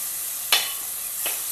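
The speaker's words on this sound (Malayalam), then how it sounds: "ഇനി ഇഞ്ചിയുടെയും വെളുത്തുള്ളിയുടെയും പച്ചമണം ഒന്ന് മാറുന്ന വരെ ഒന്ന് വഴറ്റിയെടുക്കാം." Ginger and garlic paste sautéing in oil in a pan for a Tamil Nadu style chicken curry, a constant close hiss broken by two brief stirring scrapes.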